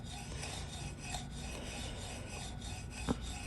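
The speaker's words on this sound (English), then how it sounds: "just get yourself a wad and just, I am not applying pressure, just lightly rubbing it" Light, pressure-free rubbing with a wad on a vintage Craftsman sander during restoration, a soft steady rasping scrub close by and faint, with one brief knock near the end.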